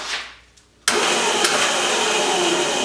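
A Razor Pocket Mod electric motor kicks in abruptly as the throttle is twisted, after a quiet start, then holds a steady, loud, even whine to the end.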